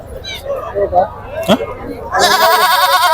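Male goats bleating amid a crowd at Pebbair market, people talking nearby, then a long, loud wavering bleat close up at the end.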